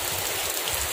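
Steady rain falls outdoors in a rural Sundanese village setting, a dense continuous hiss of drops filling the full second with no voices over it.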